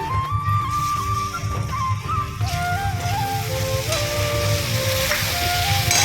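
Steady loud sizzle of lemon juice hitting hot tempering oil with curry leaves and salt for pulihora, a continuous close frying hiss throughout.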